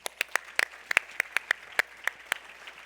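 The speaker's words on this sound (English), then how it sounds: "let's get one more applause for all the submissions out there" Sparse clapping at an awards event: a handful of sharp, distinct claps ring out one after another in an uneven rhythm, close and crisp over a quiet room rather than a full crowd's roar.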